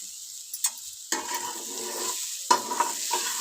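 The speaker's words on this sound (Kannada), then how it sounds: "ನೋಡಿ, ಉಪ್ಪು ಹಾಕಿ ಇದನ್ನು ಮಿಕ್ಸ್ ಮಾಡ್ಕೊತಾ ಇದ್ದೀನಿ" Horseradish stir-fry is stirred in a hot pan after salt is added, with scraping spoon strokes in short bursts over a steady soft sizzle, close up and without talk.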